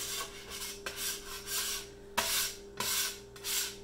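A scraper is pushed across a work surface where bread dough was made, giving a series of close, dry rasping strokes with short pauses between them.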